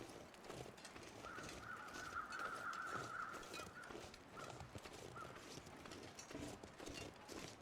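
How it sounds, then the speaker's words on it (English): Crows caw repeatedly at mid distance in the survival game The Long Dark, circling over a deer carcass in a snowy wilderness, with wind and ambient noise throughout and no talking. "these crows have been circling this deer corpse long enough"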